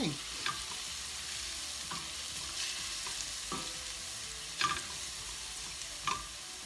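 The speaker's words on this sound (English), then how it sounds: "we're going to stir it around in here and get it sort of golden brown" Chicken and garlic frying in a pan, a steady close sizzle broken by several scraping stirs of a utensil against the pan, with no talk.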